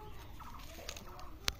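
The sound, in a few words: Sonali chicken clucking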